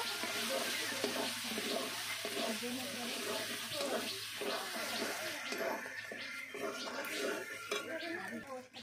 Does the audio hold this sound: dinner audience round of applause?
no